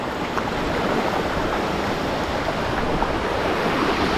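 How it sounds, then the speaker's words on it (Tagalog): Typhoon floodwater rushing past in a continuous, loud, broadband roar, steady and close with wind buffeting the microphone and no talking. "Yung baha oh."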